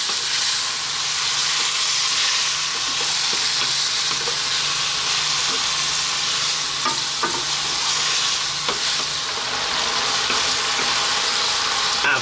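Pork belly and broccoli with Chinese five-spice stir-fry over high heat, a loud, steady sizzle and hiss that runs without a break. Scattered clicks and scrapes of stirring sit on top of it.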